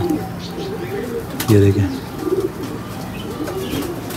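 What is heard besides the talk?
pigeon cooing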